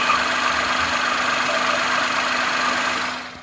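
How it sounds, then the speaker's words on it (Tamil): A steady, loud engine idle of a 2015 car with an even low hum and a constant broadband rumble, close up, fading slightly at the very end. "ஸோ இன்ஜின் ஆக்ஸ் நீங்க கேட்கலாம்."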